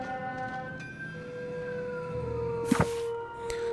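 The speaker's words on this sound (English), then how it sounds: "another siren?" Wailing siren in the video game The Outer Worlds, tones sliding and sustained over background game sound, with a couple of brief sharp impacts near the end.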